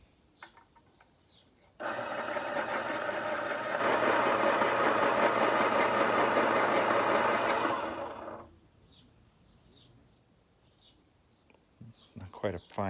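A bench grinder sharpens a pencil sharpener's cutting part during a repair, running as one loud, steady, continuous grind of about seven seconds that swells partway through, then stops, with some quiet talk afterward.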